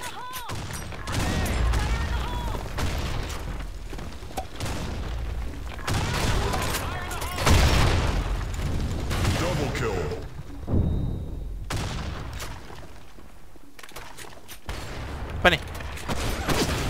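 Gunfire in the competitive shooter Blackshot, with sniper rifle shots, including an AWP, cracking in bursts across the clip under ongoing voices talking.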